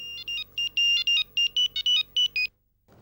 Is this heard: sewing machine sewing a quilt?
no